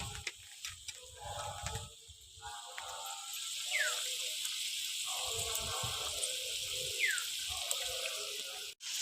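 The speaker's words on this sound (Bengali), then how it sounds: "এবার ভালো করে ফুটিয়ে নেব।" Katla fish kalia, a Bengali fish curry, boils in a pan with a steady bubbling hiss and scattered small pops and ticks, heard close and fairly quiet.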